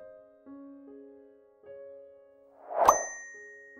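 A single bright notification bell ding rings out clearly near the end, ringing briefly over a soft sustained musical tone.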